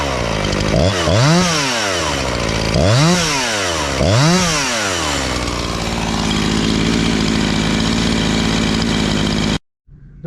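Husqvarna 345 chainsaw being tested after a rebuild, loud and close: three sharp revving sweeps up and back down, then a sustained high-rev scream held steady until it cuts off near the end.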